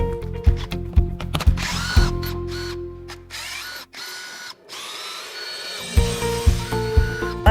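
A power drill works loose the factory skid plate under a Tesla Model 3/Y, with short whirring bursts, a longer sustained spin in the middle and more quick pulses at the end, close and loud.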